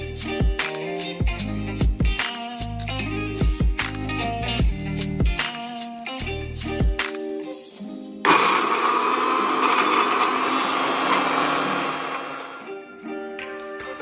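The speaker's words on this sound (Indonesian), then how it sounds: "kunyit dihaluskan dengan menggunakan blender selama 2 menit hingga kunyit menjadi serbuk-serbuk kecil" A blender grinds dried turmeric into powder, starting abruptly after a stretch of music and then running as a loud, continuous whirring roar for about four seconds before cutting off.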